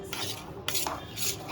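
Potato filling for vada pav being stirred and mixed in a metal pot, with soft repeated scraping and clinking of a spoon against the vessel, close and steady, no talking.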